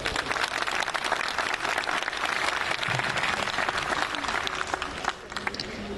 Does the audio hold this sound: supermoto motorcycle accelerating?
no